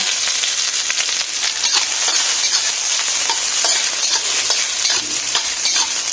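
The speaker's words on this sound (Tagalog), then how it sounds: "Ayan, iprito na natin yan para ano. Tapos magbisa tayo ng luya." Talakitok fish pieces and ginger fry in hot oil with a dense, loud, continuous sizzle, sprinkled with small pops and light stirring scrapes close to the pan; no voices.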